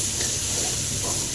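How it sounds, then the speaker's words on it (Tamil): Ingredients for a three-greens thuvaiyal fry in a pan, making a short, constant hissing sizzle with no clear breaks, close and moderately loud. "நல்லா ஃப்ரை ஆகுதுங்க"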